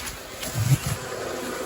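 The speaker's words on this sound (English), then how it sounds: "These bees are all bees that I knocked off of the other box." Honey bees buzz close by during winter feeding with sugar, a brief, soft droning hum that swells for a moment then settles.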